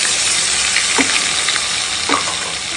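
Spice masala of garlic paste, chilli, cumin and turmeric fries loudly in a pan, a steady close sizzle with a few stirring scrapes and no talk.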